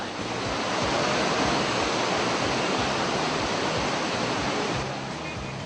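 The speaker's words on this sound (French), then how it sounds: "Ces cascades présentent un tableau des plus originales." Waterfall cascades on the Noun River near Bafoussam, Cameroon, a dense continuous roar of falling water, loud and steady throughout before easing slightly at the end.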